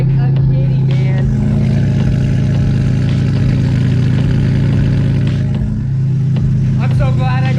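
Twin-engine Mazda MX3 running on E85 fuel, idling with a steady, deep low rumble that fills the whole stretch, loud and close, with no talking over it.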